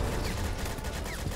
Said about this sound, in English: Oh, someone's building an HMG.